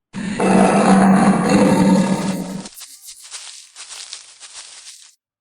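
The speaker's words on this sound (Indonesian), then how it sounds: "Mengapa ada harimau yang mengaum?" A tiger roars in a single loud, deep sustained roar for about two seconds, trailing off into quieter rustling and grunting sounds.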